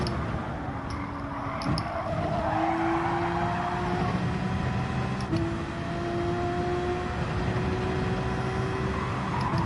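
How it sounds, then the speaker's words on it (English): Race car engines in Gran Turismo 7 drone steadily with rising gear pitch, while faint tire skidding sits in the background of continuous game audio. "Got a wee bit scared there, so that all the skidding in the background."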